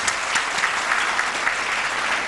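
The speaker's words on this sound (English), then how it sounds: "Please, a round of applause" An audience at an innovation awards ceremony gives a round of applause, steady full clapping that fills the whole stretch at moderate loudness.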